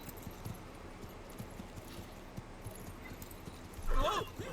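In The Sims 4, a horse's hooves clip-clop in a steady rhythm at a ranch, and a short whinny rises near the end. A low background murmur runs underneath, and no one speaks.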